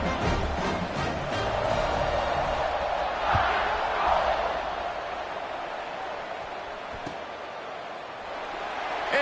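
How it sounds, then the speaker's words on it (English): Crowd noise from a stadium fills a college football video game, a steady broad roar that swells slightly midway and holds under the play, with no clear voices standing out. "this crowd is buzzing after that last score"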